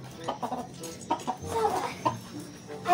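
A chicken clucks in short, uneven bursts close by, several soft clucks over a few seconds with no talking.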